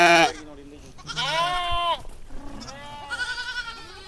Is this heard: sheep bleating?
yes